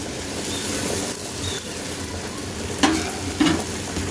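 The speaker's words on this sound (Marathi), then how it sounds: "हे जे दुसरं थालीपीठ आहे तयार ते आपल्याला इथे टाकून घ्यायचं आहे तव्यावर त्यावर थोडंसं मी तेल पण टाकून घेते" Thalipeeth frying in oil on a hot griddle gives a steady, close sizzle throughout, with two short clatters near the end.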